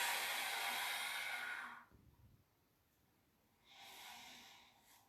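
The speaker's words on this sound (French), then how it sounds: "Là, j'exagère l'expiration, je le fais exprès pour que vous entendiez." Someone doing a breathing exercise for older people with reduced mobility makes two long, forceful, exaggerated exhales, close and airy. A short quiet pause separates them.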